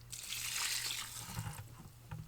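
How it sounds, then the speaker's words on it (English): Wet black biochar mixed with water poured from a bucket onto an African nightcrawler worm bin, a soft continuous trickling and sloshing pour, close and fairly quiet, with no talk. "I've got a bucket filled with black biochar. I know it's hard to see in there, but it's got water around it. And we're just going to pour some of this on top here."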